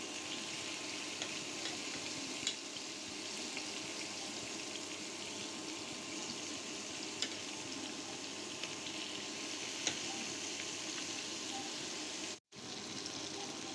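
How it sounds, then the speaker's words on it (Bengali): Foli fish fry in a little oil in a frying pan, giving a steady, dense hiss and sizzle that runs unbroken at low level with no one talking, apart from a brief cut near the end. "মাত্র 2 মিনিটে ফলি মাছগুলো উল্টিয়ে পাল্টিয়ে এপিট ওপিট করে ভেজে নিলাম"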